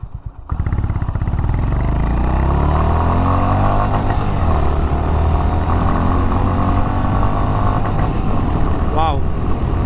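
A Honda H'ness CB350 single-cylinder motorcycle starts up and accelerates on the road, its engine a loud, close, steady throbbing drone that rises in pitch through the gears, with wind buffeting and a voice speaking over it.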